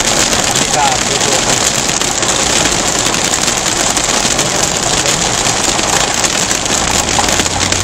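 Heavy rain pounding down as a loud, dense, unbroken hiss and patter, with a faint low engine-like idle underneath and no clear talk.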